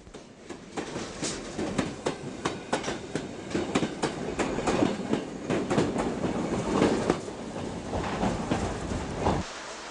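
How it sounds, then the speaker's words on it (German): An East Berlin S-Bahn special train pulls into Charlottenburg station, its wheels clattering rhythmically over rail joints at close range with a steady rumble throughout, no voices present. "Hier der Zug bei der Ankunft in Charlottenburg."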